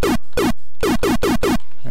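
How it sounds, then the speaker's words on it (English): A rapid series of six synthetic zaps generated by a Color Computer in BASIC, each a short downward-sweeping electronic burst, fired in a quick uneven rhythm like arcade laser shots. "Here's our laser."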